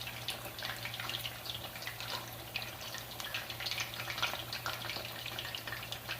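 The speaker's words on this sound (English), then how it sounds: "now that our chicken's been frying for a while, we're gonna flip it now" Chicken sizzling in a pan with garlic and ginger, a steady faint crackle and hiss with a low hum underneath, continuous and even, no voices.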